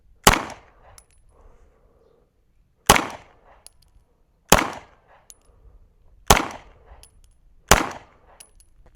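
Five sharp, loud gunshots fired with iron sights, evenly spaced about one and a half seconds apart, each a crisp crack with a brief ringing tail, outdoors and close.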